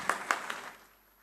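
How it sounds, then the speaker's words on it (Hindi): Faint auditorium applause welcomes a guest at a community event in Indore: three distinct claps sound close together, then quickly fade into quiet. "एक बार जोरदार तालियों से स्वागत।"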